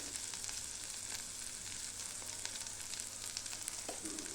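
Potatoes sautéing in oil with red chilli powder, salt and turmeric, a soft continuous sizzle with faint stirring scrapes, quiet and steady throughout.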